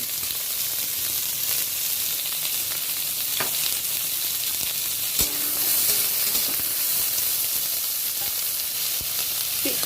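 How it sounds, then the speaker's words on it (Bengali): Two medium chopped onions frying in oil in a pan, a loud continuous sizzle and hiss close by, with a few brief scrapes of stirring and no talking. "কুচিয়ে রাখা পেঁয়াজটা দিয়ে দিচ্ছি।"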